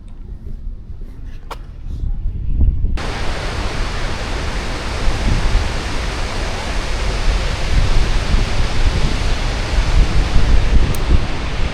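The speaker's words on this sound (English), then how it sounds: "This is the Gulfoss waterfalls." Gullfoss, a large fissure waterfall in Iceland, roars as a steady, loud wash of rushing water that begins abruptly after a quieter opening and continues unbroken.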